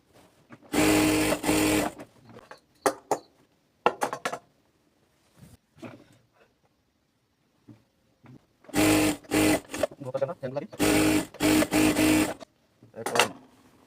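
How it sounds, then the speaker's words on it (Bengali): A sewing machine stitches a double seam on a girls' pant-style salwar, running in several loud, rapid bursts separated by short pauses and quieter handling noises. "ডাবল সেলাই দিয়ে দিবেন"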